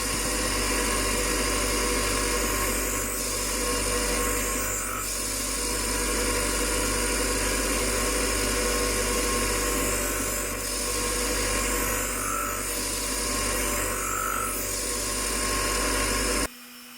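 A knife edge grinds against a spinning homemade MDF sharpening wheel, a loud continuous whir with periodic swells and scraping bursts as the blade is passed across it repeatedly.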